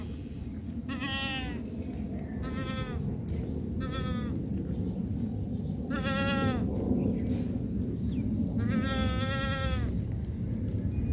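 Goats bleating, five distinct wavering cries at fairly regular intervals, close and clear over a steady hiss of background noise.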